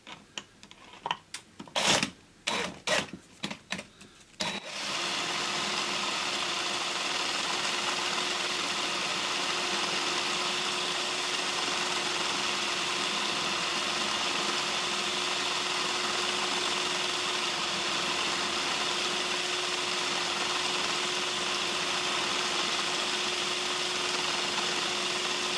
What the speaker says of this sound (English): Let's stick the drill on and see what that does.